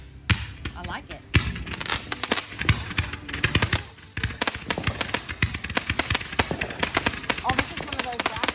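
A rapid-fire fireworks cake cracks off in a fast stream of sharp pops and bangs, with occasional whistling shots. It sounds fairly close, and people talk and react over it.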